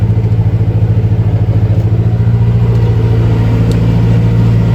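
A modified-pump 5455 tractor pulls a subsoiler through farmland, its engine a loud, steady, close diesel drone that pulses rhythmically under load throughout, with no talk.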